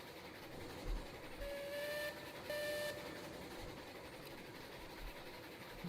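A very long train in the Railroads Online video game rolls along the rails with a steady rumble, broken by two short horn blasts partway through.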